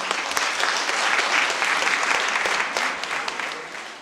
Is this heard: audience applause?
yes